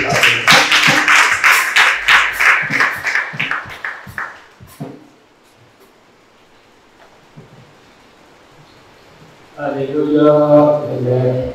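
An audience at a church thanksgiving service claps in rhythmic bursts for about four seconds to welcome a guest onto the stage, then falls quiet before a voice starts up.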